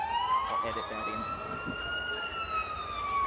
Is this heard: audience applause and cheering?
no